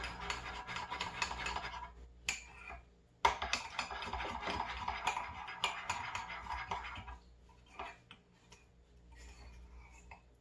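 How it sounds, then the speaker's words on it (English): A utensil stirs keto bread batter made with baking powder and a pinch of salt in a bowl, giving close, quick clicking and scraping taps in uneven bursts that fade near the end. "We're going to mix this all together to make our bread."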